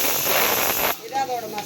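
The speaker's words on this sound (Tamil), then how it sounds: "எல்லாத்தையும் நல்லா வறுத்துக்கிறோம்." Green chillies and spices roasting in a hot pan, a loud close hiss of sizzling oil that cuts off abruptly partway through, leaving quiet room sound with a faint voice.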